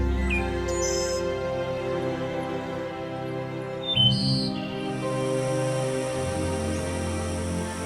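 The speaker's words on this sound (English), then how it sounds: "as parrots love this area." A few faint, high parrot calls sound briefly over a steady, droning background hum in a Dominica forest, with no other clear activity.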